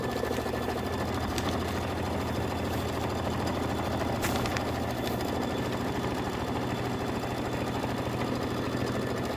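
An embroidery machine stitches a quilt block in putty-coloured fabric for an autumn quilt, giving a steady, close mechanical whir and rapid needle chatter that runs unbroken throughout with no talking.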